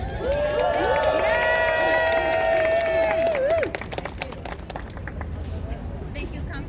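Crowd cheering and clapping at an outdoor rally on the steps of New York City Hall, loud and sustained for a few seconds with voices mixed in, then tapering into scattered claps and chatter.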